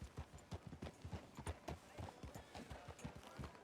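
Horse hooves clip-clopping in the video game Red Dead Redemption 2, a quick, steady, close rhythm of hoof strikes at a walking or trotting pace, heard alone.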